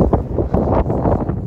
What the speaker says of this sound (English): it's really windy up